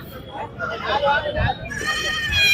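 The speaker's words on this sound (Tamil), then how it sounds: "எல்லாமே ரமேஷ் அண்ணாவோட ஆட்டுக்குட்டிகள் தான்" Young goats at a Kunnathur livestock market bleat in a wavering, high cry, two or three calls rising over crowd murmur and nearby talk.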